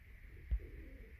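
A single soft, low coo from a pigeon among pet birds, brief and faint over a steady background hum, with no voices.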